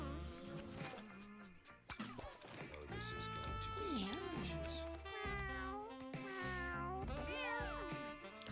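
Cartoon cats meowing in the video game Mewgenics: a busy stream of overlapping meows and caterwauls with sliding pitches, several cats at once, loud and close, with some game clatter mixed in.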